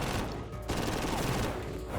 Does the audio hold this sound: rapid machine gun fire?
yes